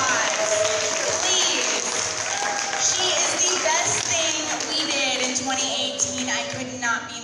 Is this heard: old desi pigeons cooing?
no